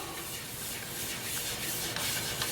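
Abrasive paper rubs against a large maple burl bowl turning on a wood lathe, a steady close-up hiss of sanding at 100 grit with no talk over it.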